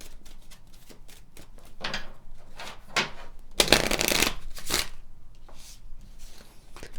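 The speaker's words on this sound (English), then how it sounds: "Let's pull some Kipper cards." Kipper cards are shuffled by hand in a series of quick riffling, rustling bursts, one longer and louder flurry in the middle, close and clear with no talking.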